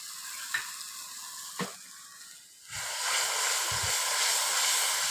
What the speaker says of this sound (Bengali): মশলাটা খুব ভালোভাবে নেড়ে চেড়ে নিয়ে আমি এটাকে খুব ভালোভাবে একটু কষিয়ে নেব